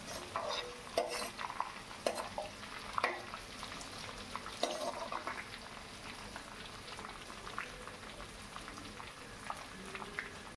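Garlic and curry leaves frying in hot tempering oil in a home kitchen, a steady bubbling sizzle with a few sharp pops and stirring clinks near the start, continuous and close with no talking.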